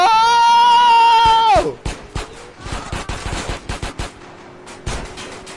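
In a video game, gunfire targets a car tire. A loud sustained tone cuts off, then a rapid burst of close shots follows with a few scattered later cracks and a faint whine underneath.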